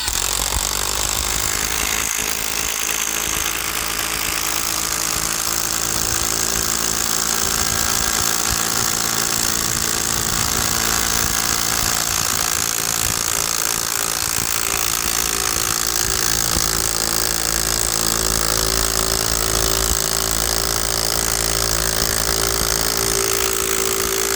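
A cordless screwdriver drives a 55 cm self-tapping screw into material, producing a loud, continuous grinding motor whine with rattling that persists without pause.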